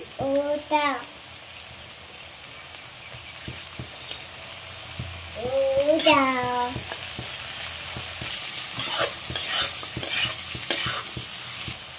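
Capsicum and spring onion being stir-fried for mutton chowmein, a steady sizzle broken by repeated scraping stirs of a spatula, with a brief burst of intense hiss partway through; a few short bits of speech also come through.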